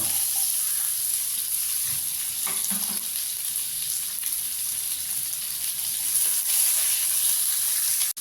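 Steady sizzling of chopped onions frying in hot oil, continuous and close, with faint stirring scrapes and no talking.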